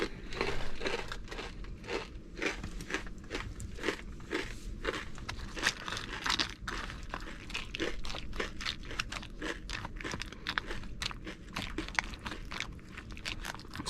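A handful of MRE corn nuggets is crunched up close, giving dense, rapid, loud crunching and chewing that runs steadily throughout with no talk.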